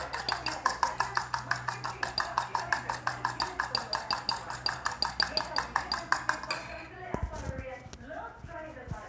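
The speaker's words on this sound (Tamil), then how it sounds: "ஃபோக் வச்சுக்கிட்டு பீட் பண்ணுங்க." Rapid, steady clinking of a fork beating eggs in a bowl, rhythmic and close, stopping near the end followed by a few scattered clatters.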